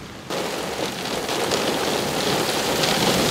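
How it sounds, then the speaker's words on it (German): Heavy supercell thunderstorm rain with strong wind near Nördlingen pours down steadily in a dense, hissing roar, starting abruptly after a brief quieter moment and holding loud and constant. "Heftiger Regen und ordentlich Wind setzen ein."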